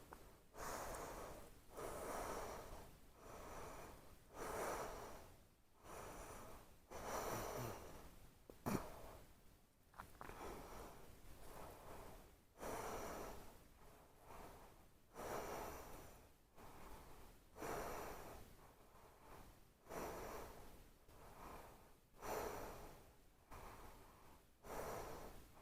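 Slow, deep breathing during a yoga shoulder stand, with steady inhales and exhales repeating roughly every two seconds, close and soft, with no talking.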